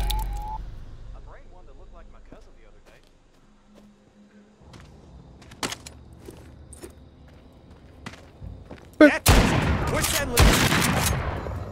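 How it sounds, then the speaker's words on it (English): A shotgun fires in the virtual-reality zombie game The Walking Dead Saints & Sinners. Sharp blasts come after scattered footsteps and clicks, and a dense burst of gunfire crackles near the end. "I missed with a shotgun."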